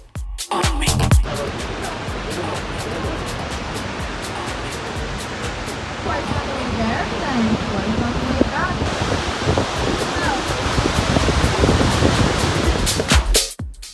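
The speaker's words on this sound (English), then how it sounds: "The rapids below the aero car move at an estimated 35 to 37 kilometers an hour." Rushing river rapids far below the Niagara Whirlpool Aero Car, a steady, loud broadband roar of fast whitewater that fills the whole stretch, with a few brief bumps and knocks near the start.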